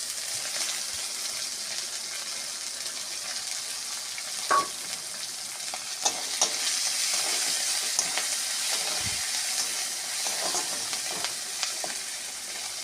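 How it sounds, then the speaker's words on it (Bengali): Green chillies and browned garlic crackle and sizzle in hot oil in a home kitchen pan, a continuous frying hiss with a few stirring knocks and pops, no voices. "কাঁচা লঙ্কাগুলো দিয়ে দেবো"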